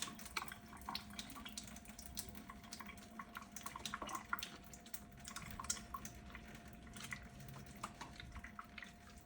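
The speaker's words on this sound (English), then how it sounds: "I'm going to make sure to wash my hands for at least 30 seconds." Water runs steadily from a tap into a sink during handwashing, a quiet continuous splashing with small drips and hand movements close by.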